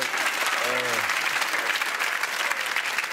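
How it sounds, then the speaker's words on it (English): A television studio audience applauds continuously in a dense wash of clapping on a chat show, with a brief voice sounding out over it early on. "Why are you applauding?"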